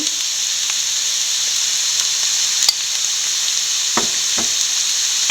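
Onion, garlic, green chilli and ground spices such as turmeric sauté in a pan for a fish molly, making a loud, continuous sizzling hiss broken by a couple of brief scraping stirs.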